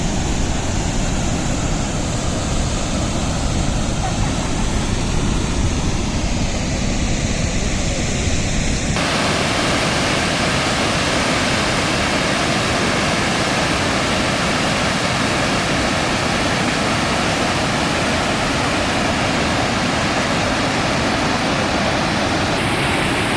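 Athirappilly waterfall in a Kerala forest roaring without a break, a dense, loud, unbroken rush of falling water heard from nearby, with no voices.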